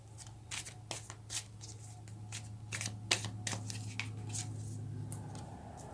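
Tarot cards being drawn and laid out by hand, giving a run of soft, papery slides and flicks at an uneven pace over a steady low background hum, close and fairly quiet.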